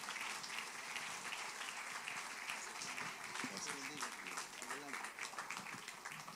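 Church congregation applauding at a service, steady clapping throughout with voices and faint singing or speech mixed in underneath.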